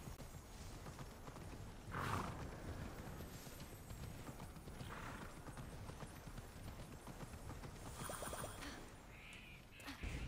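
Horse hooves clip-clop steadily at close range in the video game Immortals Fenyx Rising, with a short whinny near the start and game sounds layered throughout.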